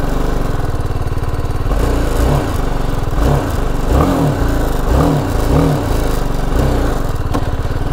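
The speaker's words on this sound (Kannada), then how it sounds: "ಸೌಂಡ್ ಒಳ್ಳೆ TVS ಗಾಡಿ ಸೌಂಡ್ ಥರನೇ ಬರ್ತಾ ಇದೆ." BMW G 310 GS Rally Edition motorcycle engine running steadily near the microphone, with a constant loud buzzing idle and a series of quick throttle blips rising and falling in the middle, and no speech.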